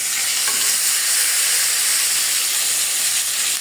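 Koi fish (climbing perch) frying in a pan for a pre-dawn meal, a loud steady close sizzle and hiss of oil that runs without a break.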